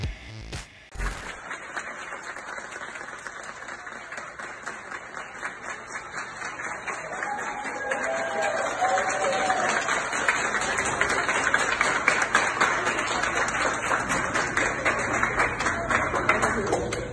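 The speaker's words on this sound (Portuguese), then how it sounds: "é homenageado com uma salva de palmas" Applause rises as a patient leaves a hospital: steady, dense clapping from a crowd that grows louder toward the end, heard at moderate distance with some background murmur.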